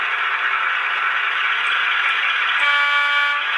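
A model locomotive's sound-function horn, run from a Z21 DCC controller, blares steadily and loudly for several seconds, sustained and buzzy, with a faint rattling underneath and no voices.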